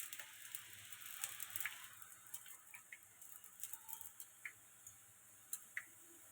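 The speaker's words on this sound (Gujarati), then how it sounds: "આવી રીતે આપણે બધી જ સેવને પાડી નાખશું ગરમ ગરમ તેલમાં" Sev frying in hot oil, a faint bubbling sizzle with scattered small ticks and pops spaced irregularly, quiet and close, with no talk.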